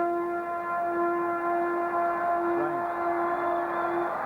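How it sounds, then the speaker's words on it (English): Ground siren at Bay Oval sounding a long, steady, unbroken tone to start an Australian football match between Glenelg and Central District, carrying over faint crowd murmur. "There's a siren to signal the start of this big clash here at the Bay Oval"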